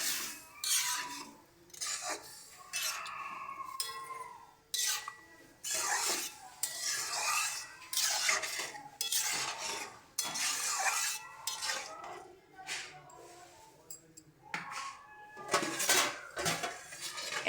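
A spoon scrapes and clinks against a pan while tomato chutney is mixed with turmeric and salt, with irregular close-up strokes and brief pauses between them.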